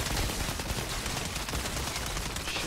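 Dense, continuous gunfire from the video game Outriders, with shotgun blasts blending into a steady loud roar of shots and explosions with no clear gaps.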